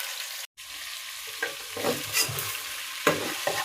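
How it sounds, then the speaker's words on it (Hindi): Chicken pieces for chicken karahi sizzle and fry in a hot pan, with occasional stirring scrapes and crackles, close up, no voices. "इसमें मैं चिकन शामिल करूँगी। पहले इसको थोड़ा सा फ्राई करूँगी"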